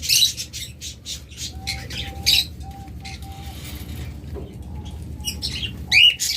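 A pair of caged pet birds, offered as a rainbow pair, chirp and squawk in sharp bursts while wings flap in quick flurries, with a soft cooing undertone throughout.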